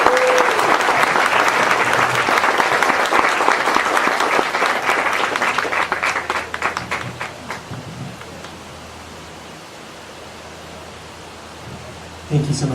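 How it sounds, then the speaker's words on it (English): Audience applause at a groundbreaking ceremony for Anderson Springs, dense and steady for about eight seconds before thinning and fading, with a voice returning briefly at the end. "we need to give her a big round of applause"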